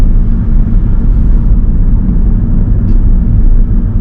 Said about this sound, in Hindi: हम स्पीड थोड़ी सी बढ़ा के यहाँ पे गाड़ी चला सकते हैं